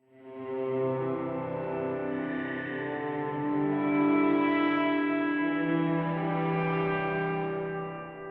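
Electric guitar through a Line 6 Helix or POD Go with reverb mix fully up and ducking off, sustained chords washing into a dense, continuous reverb tail that never drops away, loud and steady for the whole stretch.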